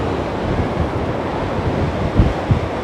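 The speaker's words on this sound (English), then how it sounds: "there's loads of big waves going up over the lighthouse" Big waves crash against the lighthouse at Porthcawl on a cold, windy coast, a constant roar of surf with buffeting wind noise on the microphone and a couple of heavier low thumps near the end.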